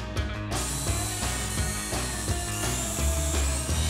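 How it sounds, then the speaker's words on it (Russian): A drill drives self-tapping screws into laminate boards, giving a continuous whirring, grinding mechanical sound with rhythmic ratcheting pulses, close and steady throughout. "Бортики также прикручиваем на саморезы, предварительно засверлившись,"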